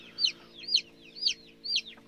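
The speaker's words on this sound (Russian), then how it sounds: "Цыплятки уже лупятся полным ходом." Newly hatched chicks of mixed breeds in an incubator cheep in four sharp, evenly spaced high peeps, close and clear over a faint steady machine hum.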